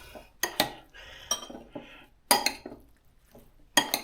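Tofu mixed with BBQ sauce in a bowl, several sharp utensil clanks and scrapes against the bowl in irregular bursts with quieter wet stirring between, close and unaccompanied by talk.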